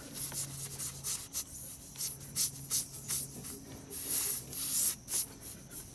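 Rough scraping and rubbing strokes of a reamer enlarging a puncture hole in a car tire, repeated in uneven bursts, close up, with a faint low hum in the background and no talking.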